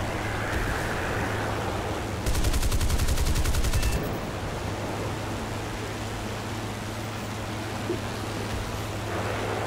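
A short burst of rapid automatic gunfire from a Spitfire Mk 24 in a video game, about two seconds long, over a constant engine drone.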